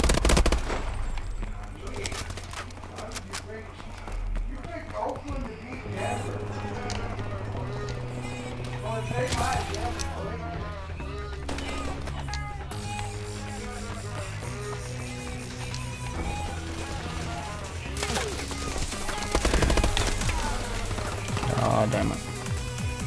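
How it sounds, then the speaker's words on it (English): Rapid AK-12 gunfire from a Call of Duty: Advanced Warfare multiplayer match crackles in repeated automatic bursts with game effects, while a player talks over it. "Let me just try the AK-12"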